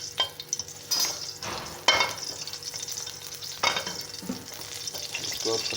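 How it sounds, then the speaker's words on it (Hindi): Lamb chops frying in a pan over low heat, a soft continuous sizzle broken by several scraping stirs, close and fairly quiet with no talking. "इसको फ्राई करते हैं।"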